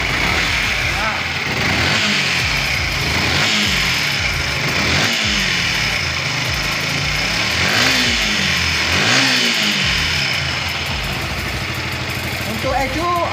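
A Yamaha R15 motorcycle with an ignition fault is revved repeatedly in a workshop, its engine rising and falling in several throttle blips over a steady idle.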